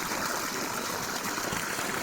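Water from a 5 HP motor pump pours into a farm field, a continuous broad rushing flow, close and steady with no talking.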